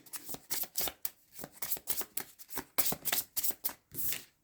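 Tarot cards are shuffled and drawn by hand, a quick series of close, crisp riffling flicks and slaps in an uneven rhythm, alone and without talk.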